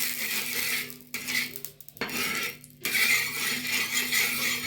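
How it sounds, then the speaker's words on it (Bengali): Eggs are whisked by hand with soybean chunks, salt and turmeric in a bowl, making rapid, close metallic clinking in bursts separated by brief pauses. "লবণ দিয়ে সুন্দর করে এটা ফেটে নেব, খুব সুন্দর করে ফাটবো।"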